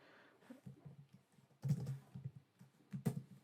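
Typing on a computer keyboard while entering HTML code: soft, quick clusters of key clicks heard close up and alone, with a few louder bursts of keystrokes.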